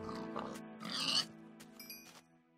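A Minecraft pig gives a few short, soft oinks and grunts close by at low volume, with nothing else around them.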